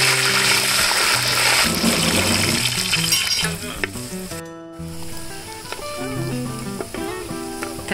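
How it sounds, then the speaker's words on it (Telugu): Urad dal, mustard seeds and fenugreek sizzle steadily in hot oil, a continuous crackling fry under melodic background music that briefly drops out midway. "కొంచెం ఆయిల్ మరగనిచ్చిన తర్వాత ఉద్దిపప్పు ఆవాలు మెంతులు వేయాలి."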